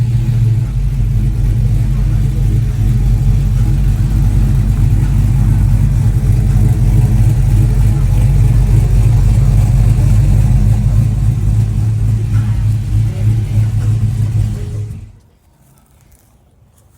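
Engine of an old Chevrolet C10 pickup truck running loud and close with a deep, steady rumble, then cutting off abruptly near the end.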